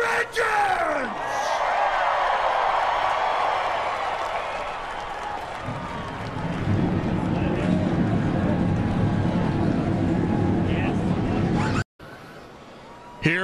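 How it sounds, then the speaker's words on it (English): At the 58th Daytona 500, a cheering, whooping stadium crowd gives way to the deep, sustained roar of the race cars' engines firing up, which holds steady for several seconds. "For God and country, drivers, start your engines!"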